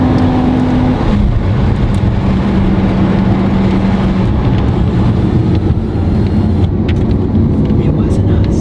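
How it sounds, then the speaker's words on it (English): A Lamborghini Aventador with a straight-piped V12 and Valvetronic exhaust drones loudly and continuously close by, a heavy steady engine roar with people talking over it. "We're passing her straight pipe V12 Lamborghini."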